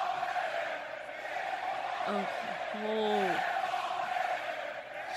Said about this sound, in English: Just look at the crowd.